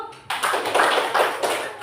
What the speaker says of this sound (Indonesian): orang yang tepuk tangan dulu